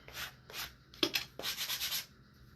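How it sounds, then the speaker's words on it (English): An 80 grit sanding block rubs over painted wood in a series of short, close strokes, a few separate passes followed by a quicker run of back-and-forth scrubbing, with no voices. "So I'm going to just take my sanding block. This is a 80 grit sanding block."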